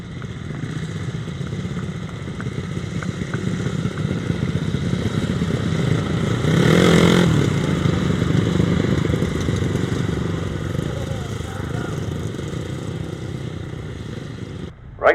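500cc solo motorcycles race on a grasstrack, their engines droning continuously nearby. The roar swells as the bikes pass at the midpoint and then eases back.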